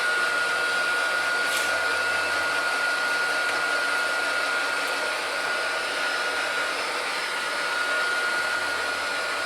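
Heat gun warming the screen of a Samsung Galaxy Tab S2 SM-T813 tablet to loosen it, a steady close blowing whine with a faint tone that holds evenly throughout, without talk.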